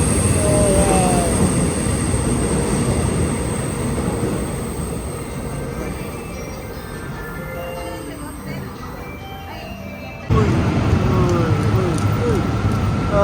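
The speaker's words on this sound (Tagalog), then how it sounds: "Oh, there's a long train." A long train rolls past in Seoul with a continuous rumbling clatter and squealing wheels, close and loud. The noise dips midway, then jumps back sharply near the end, and voices talk over it.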